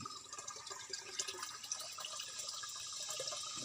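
Water flows at a water district reservoir as a faint, steady trickling rush with small splashy accents, heard alone with no talking.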